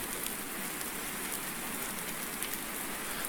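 Steady rain in Farming Simulator 19, a dense, even hiss of drops on surfaces with no breaks, constant and enveloping, with no voices.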